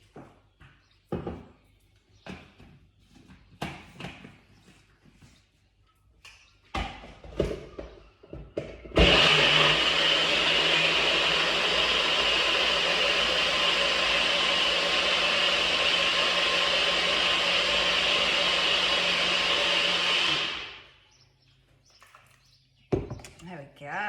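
A blender whizzes up a protein shake, a loud, steady high-pitched whirring roar lasting about twelve seconds before winding down, with talking and kitchen clatter before and after.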